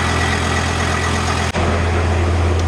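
A VW T4 camper van engine idles with a steady, loud low drone and mid-range hum. The sound is continuous, with one brief dip near the middle, and no one speaks.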